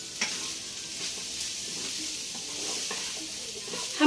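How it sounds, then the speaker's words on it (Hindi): Fried rice with coriander leaves being stir-fried in a pan, making a continuous soft sizzle with light scraping stirs, close and moderately quiet, with a louder knock at the very end. "अब हम इसमें धनिया पत्ता डालेंगे और इसको अच्छे से मिक्स कर लेंगे।"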